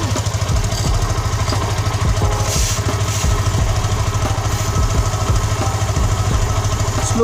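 Yamaha FZ motorcycle engine idling at close range with the bike in first gear and the chain turning, a steady low rumble with rhythmic mechanical ticking and clatter throughout.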